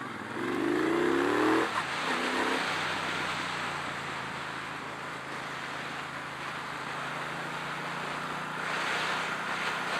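Triumph Bonneville Speedmaster cruiser motorcycle pulling away, its engine note rising in first gear, then a shift into higher gear. After that the engine drones steadily under heavy wind rush close to the rider.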